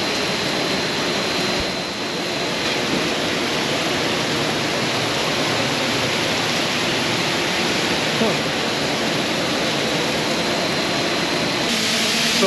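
A manure solids separator on a large dairy farm runs with a constant loud, broadband rush of liquid falling from its screen, steady throughout, and faint talk may be buried beneath it.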